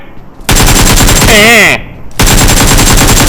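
Gunfire in PUBG Mobile, two long loud bursts of rapid automatic fire very close, briefly broken by a short wavering tone in the gap.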